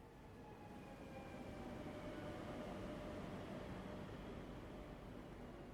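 A moving train in VRChat gives a steady, continuous rumble with faint high whining tones that stays fairly level from start to end, heard alone with no talk.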